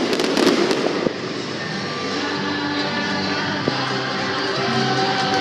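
Fireworks bang and crackle in a quick flurry of sharp bursts at first, then give way to a few scattered pops over a steady background of distant crowd noise.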